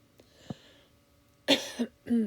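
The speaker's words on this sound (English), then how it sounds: "Pardon the cough." A person coughs a few times close by, a small throat sound followed by two or three harsher coughs, fairly quiet with no talking.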